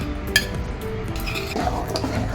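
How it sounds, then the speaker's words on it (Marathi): Metal idli steamer plates clink and clatter as they are handled and greased with oil in a kitchen, a few sharp close taps over soft rubbing sounds. "आपण ह्या इडलीच्या पात्रांना तेल लावून घेऊया"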